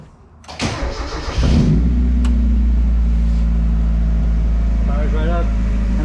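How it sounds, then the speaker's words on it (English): Mazda Spec Miata race car cranking and firing up, then settling into a steady, loud, deep idle around 800 RPM, heard up close, with a few voices faintly in the background. "The idle is set, so it's idling at like 800 RPMs now."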